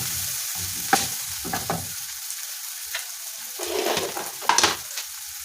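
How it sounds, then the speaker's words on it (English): Onions sweating in a frying pan for a mushroom sauce give a soft, steady sizzle, punctuated by several sharper scrapes and stirs of a utensil against the pan, close and alone with no talk. "now we put our onions and we let the onions sweat for a bit"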